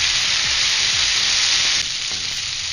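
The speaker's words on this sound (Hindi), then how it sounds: "तब तक मैं इसको बस 1-2 मिनट और फुल फ्लेम पे फ्राई करूँगी।" Chicken pieces fry in a pan over a full flame, giving a loud, continuous sizzle and crackle, close up and unbroken, with no voices.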